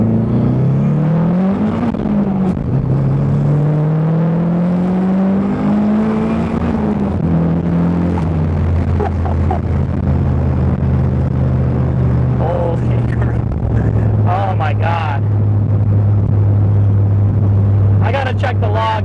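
A Miata engine running on E85 with raised turbo boost pulls hard, its rising tone climbing and dropping through several gear changes. Short sharp pops follow near the end. The sound is loud and close, and no one speaks over it.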